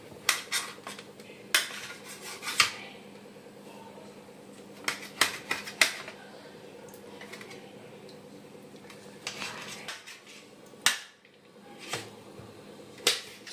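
A knife chops roasted bottle gourd into small pieces on a board, with irregular sharp taps in quick clusters and pauses, close by over a faint steady hum.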